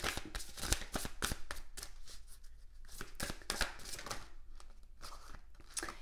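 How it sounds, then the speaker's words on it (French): A deck of cards is shuffled close up before one is drawn, a run of quick riffling snaps and soft papery flutters in irregular bursts, fairly quiet, with no speech. "Allez, on va prendre une carte pour le féminin sacré."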